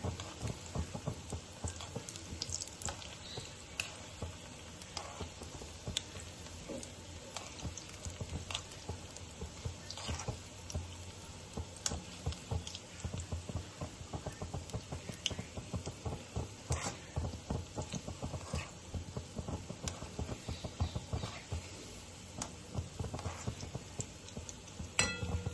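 Mutter palak cheese balls deep fry in hot oil in a kadhai, giving a faint, continuous crackle and sputter with scattered sharper pops throughout.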